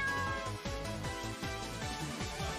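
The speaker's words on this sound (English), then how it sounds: "Oh, it's another cat." Repeated cat meows from a video game, a steady series of fairly quiet electronic mews over a continuous game music bed, with no talking.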